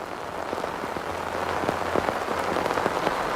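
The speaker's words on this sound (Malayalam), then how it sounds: "ഇവിടെ കനത്ത മഴയാണ് ഇപ്പോൾ പെയ്തുകൊണ്ട് ഇരിക്കുന്നത്." Heavy rain pours steadily over forest land at Appappara in the Thirunelly area of Wayanad, a dense, continuous wash of drops with scattered sharper splashes, loud and unbroken throughout.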